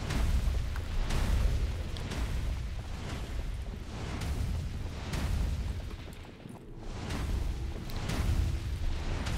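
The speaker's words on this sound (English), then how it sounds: "If we won't die due to explosions." Repeated booming blasts go off every second or two in the video game Gauntlet Slayer Edition, heavy and broadband, over a constant low rumble of game noise.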